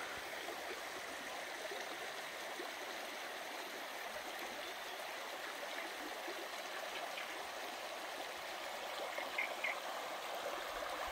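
A river flows beside a country house and old flour mill, its broad, steady rush and babble continuing evenly throughout, close and constant, with no voices.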